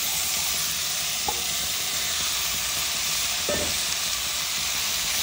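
Chopped tomatoes fry with sautéed shallots in a pan, a constant loud sizzle and hiss with a couple of brief scraping stirs.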